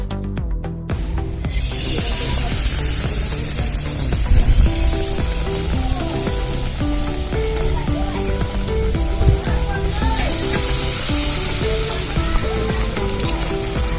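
Bread slices dipped in gram flour (besan) batter fry in plenty of hot oil, giving a steady, continuous sizzle with bubbling crackle throughout, close and fairly loud, with no talking.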